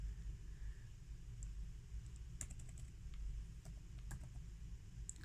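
A few soft, quick keystrokes on a laptop keyboard are faint over a steady low hum.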